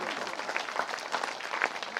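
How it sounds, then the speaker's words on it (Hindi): Enthusiastic applause from a crowd at a Shrimad Bhagwat Katha religious gathering, steady and dense, heard at moderate distance with a few sharper individual claps standing out. "सबके लिए महाराज ठाकुर परिवार के लिए जोरदार तालियां हो जाएंगी"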